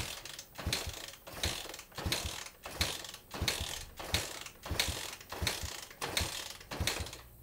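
A 1973 Honda CB500 motorcycle being kicked over repeatedly during a compression test, giving a steady series of about a dozen rhythmic mechanical ratcheting strokes, close and moderately quiet with no talk.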